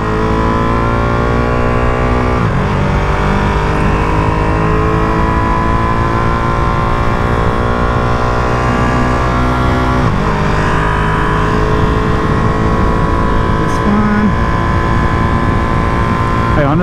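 A brand-new 2023 limited edition Ducati Panigale V2 Troy Bayliss is ridden steadily during break-in. The engine drone is loud and continuous, with the pitch rising through the gears and dropping briefly at a few shifts. Wind noise runs underneath.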